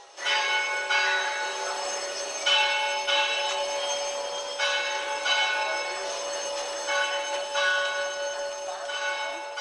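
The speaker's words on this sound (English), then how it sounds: "At 8:45 today, bells tolled for the dead." Church bells toll for the dead repeatedly with long ringing overtones, strikes arriving every second or so and overlapping into a sustained metallic hum.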